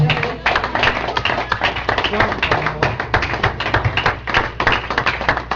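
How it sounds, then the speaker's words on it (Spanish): Loud, dense applause from a church congregation, steady clapping throughout with a few voices mixed in. "Dale un aplauso fuerte al Señor."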